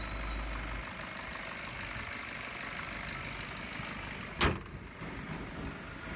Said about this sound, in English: Check how the engine sounds.